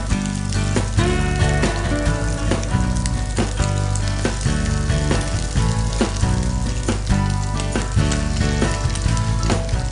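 Egg patties shallow frying in hot oil over a low flame, a loud, steady sizzle and crackle running throughout with frequent sharp pops and spits, no voices.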